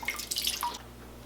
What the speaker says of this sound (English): Just adding a little more water.